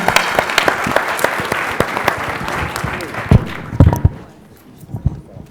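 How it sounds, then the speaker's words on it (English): An audience at a talk on social entrepreneurs gives the guests a round of applause, many hands clapping with sharp individual claps standing out, tapering into scattered claps and then fading out. "one more round of applause for these good folks"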